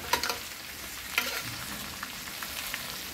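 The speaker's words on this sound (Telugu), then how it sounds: "సిమ్లో పెట్టి నెమ్మదిగా వేపుకోవాలి." Okra sizzles gently in an open pan over low heat, with a few sharp scraping stirs near the start and again around the middle, and a soft steady frying hiss in between.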